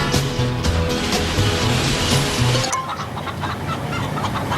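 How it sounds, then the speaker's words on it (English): Chickens cluck over a busy backdrop in a Geico TV ad about free-range chickens, with steady clucking through the first half before the sound thins out. "If you're a free-range chicken, you roam free."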